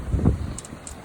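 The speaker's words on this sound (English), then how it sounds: "real windy" Strong wind buffets the microphone during a heavy snowstorm in Chapel Hill, North Carolina, giving low rumbling gusts that rise and fall over about a second, with no voices.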